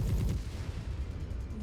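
Heavy mech weapons firing in the Mechwarrior 5 video game, a dense booming burst of gunfire-like blasts that fades into a rumbling low roar.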